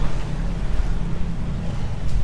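A passenger boat approaching Tha Ruea Ram 29 pier on a river, its steady low engine rumble loud and close with wind and water wash, no talk.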